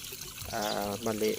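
Strong flowing water in a tilapia fish pond rushes steadily in the background while someone talks over it.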